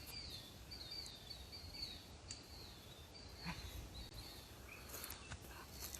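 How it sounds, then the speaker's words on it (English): Birds call along a pond trail in spring, several faint, thin chirps and short whistles scattered over a quiet outdoor background, some sounding distant. "We also can hear some birds."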